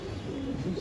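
A Madras pigeon from Delhi gives a brief, soft, low cooing burble in a loft, faint and close, with no talking over it.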